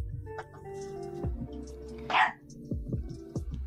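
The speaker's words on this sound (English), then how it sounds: "She sounds like a big dog, and she's just a chubby little chihuahua." A chubby little chihuahua named Misty barks in a quick string of sharp, surprisingly deep yaps, with one louder, higher bark standing out in the middle, heard close in a quiet room.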